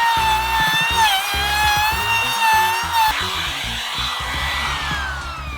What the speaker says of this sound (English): take your router, set your desired depth, and you can clean out the back of this material so that lag bolt doesn't get in the way